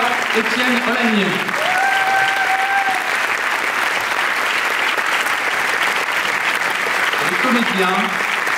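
A full audience claps steadily for a film crew being introduced on stage, dense and even throughout, while an announcer's voice breaks through at the beginning and near the end.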